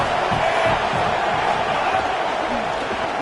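A stadium crowd at a football game roars in a steady, loud wash of cheering and noise throughout, with no breaks.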